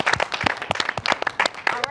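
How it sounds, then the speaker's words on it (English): Applause from a crowd, a dense burst of many hands clapping at once, loud and close, with no speech on top. "can we get one last round of applause for our contestants as well as our judges?"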